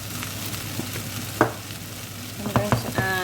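A sausage and bean casserole cooks in a pan with a constant close sizzle while a spoon stirs it, producing a few scraping knocks and clinks against the pan.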